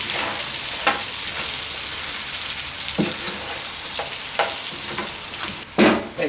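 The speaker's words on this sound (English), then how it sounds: "let's just stir fry the meat" Beef with curry powder being stir-fried in a pan, a steady loud sizzle broken by periodic spatula scrapes and knocks, heaviest near the end, with no voices.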